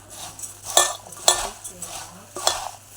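Puffed rice being mixed by hand with mustard oil and green peas, giving a few sharp scraping, clinking strokes against the bowl spaced about half a second to a second apart, close and fairly quiet, with no talking.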